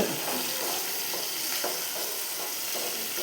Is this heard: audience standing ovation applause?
no